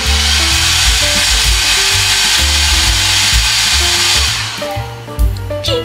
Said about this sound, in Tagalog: Okay, tatry ko mag-blower.